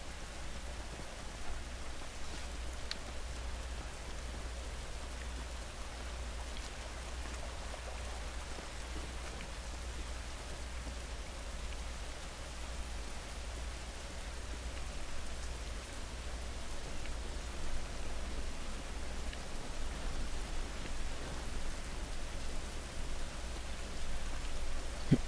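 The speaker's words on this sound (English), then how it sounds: "It's raining" Steady rain falls outdoors in The Last of Us, a soft, even hiss of raindrops that continues throughout and grows slightly louder toward the end, with no voices.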